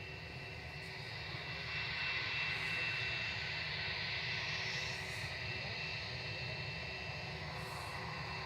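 An Airbus A320-200 jet at Manchester Airport, engines giving a steady, continuous broadband roar that swells slightly and holds at moderate distance, with no voices.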